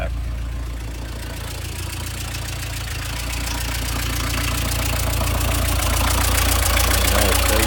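A cold diesel engine idles just after a glow-plug start, its steady low knocking rumble running loud and close, evening out slightly as it settles.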